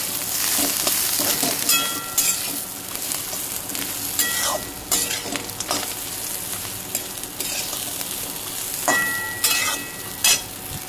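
Grated coconut, ginger, garlic and coriander frying in a home-kitchen pan give a steady close sizzle, with scraping stirs and light utensil clinks recurring throughout, and no voices.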